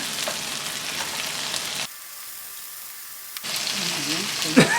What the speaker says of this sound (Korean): 이제 두꺼운 야채부터 단단한 야채부터 넣겠습니다. 호박, 양파